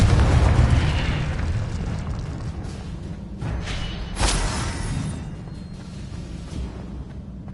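Confringo, a blasting spell in Hogwarts Legacy, sets off a loud booming explosion with a rumbling tail. Further whooshing bursts and crackles follow as the blast dies away.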